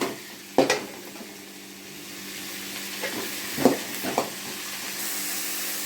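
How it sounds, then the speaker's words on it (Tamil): Ginger, tomato and a sprig of curry leaves sauté in a kadai for village-style mutton kuzhambu, a soft, steady sizzle with a few sharp spoon clinks against the pan. "இது எல்லாத்தையும் நம்ம வானலில் போட்டு வதக்கி எடுத்து வச்சுக்கலாம்"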